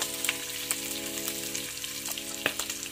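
Garlic dropped into hot oil sizzles with a continuous close crackle, sharp pops and spatters breaking through at irregular intervals, no voices.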